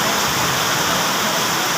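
Dense, steady hiss of heavy rain pouring down, constant and loud with no pauses or voices.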